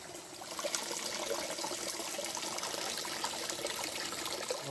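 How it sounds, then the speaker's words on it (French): Shallow stream trickling steadily at the Huveaune spring, a continuous close bubbling and splashing of water running over stones with no other sounds. "c'est vraiment étonnant ce ruisseau d'eau"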